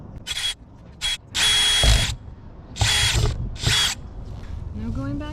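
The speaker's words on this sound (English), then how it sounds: "I'm gonna just drill a pilot hole" A power drill cuts a pilot hole for a Maxxair roof fan in a van build, coming as several loud whirring bursts of a second or so with brief pauses, ending on a softer rising whine.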